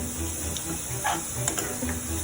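Masala for dal fries to golden brown in a pan with a steady close sizzle and hiss, with occasional stirring scrapes.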